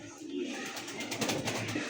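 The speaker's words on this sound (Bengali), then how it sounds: "দেখছেন দুইটা কবুতর" Female pigeons, white- and marble-eyed, give soft, low coos at a bird market, close by and blended with murmuring voices in the background.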